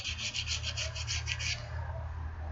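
An axe blade rubbed gently against a sharpening stone, giving a steady gritty scraping with rapid repeated strokes in the first half before settling into continuous rubbing, close and moderately quiet over a low hum.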